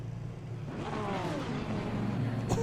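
Aston Martin Vantage V8 GT3 race car engine in Assetto Corsa Competizione, a steady droning V8 note that climbs in pitch as it accelerates, continuous and moderately loud with no talking.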